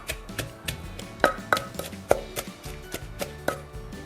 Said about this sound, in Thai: โขกส่วนผสมทุกอย่างให้เข้ากันเลยค่ะ